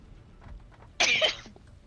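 A single sudden sneeze bursts out after quiet, lasting about half a second, loud and close.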